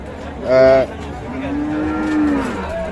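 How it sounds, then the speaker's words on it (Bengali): Cows and calves of native, Sahiwal and Sindhi dairy breeds low loudly at Ambari cattle market in Dinajpur, one close, strong moo followed by a long drawn-out low and a shorter call, over steady crowd murmur. "দেশি গাভী বাছুর।"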